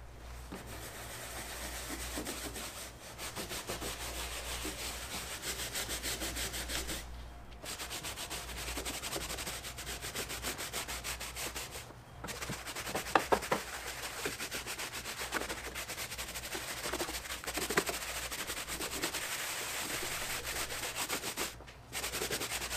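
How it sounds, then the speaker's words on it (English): Stiff brush scrubbing dirt off car engine bay parts, a steady, continuous rasping rub that runs for most of the clip, with a few brief pauses and some sharper scrapes in the middle. "we can scrub that and try and get all the dirt out of that"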